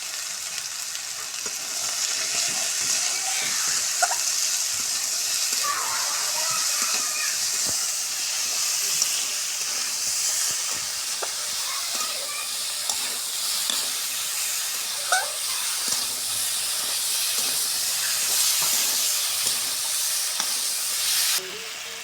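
Potatoes fry and steam in a pan for a lentil, long bean and tomato dish, giving a steady close sizzle and hiss with occasional soft stirring scrapes throughout.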